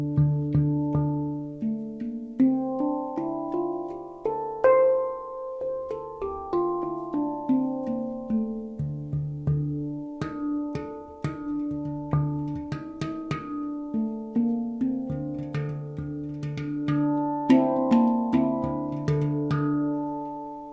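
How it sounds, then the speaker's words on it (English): Mag Instruments handpan tuned to the Kurd 9 scale, played solo with a steady stream of ringing, bell-like struck notes that sustain and overlap, close and clear with no talk. "This is a Curd 9, a very popular scale."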